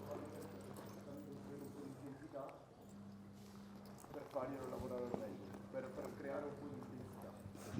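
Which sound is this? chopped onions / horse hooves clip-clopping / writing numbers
horse hooves clip-clopping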